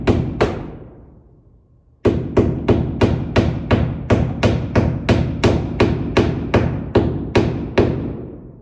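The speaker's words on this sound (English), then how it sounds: "we'll get our assistant just to put the nail in there" Hammer strikes drive a nail into a window flange during a window installation: two blows, a ringing pause, then a steady run of about a dozen sharp, loud, evenly spaced hits up close.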